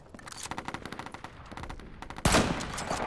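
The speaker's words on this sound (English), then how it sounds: "That was a nice shot." Gunfire in the video game Insurgency Source: a rapid string of sharp shots, then one louder, heavier crack near the end, like a sniper rifle shot.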